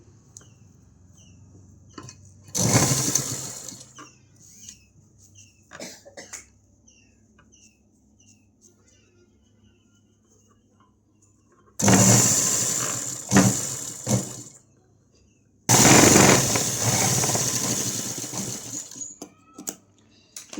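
Sewing machine stitching piping thread onto a baby's frock, three separate bursts of fast mechanical whirring, each a second or a few seconds long, with quiet pauses and small clicks between them.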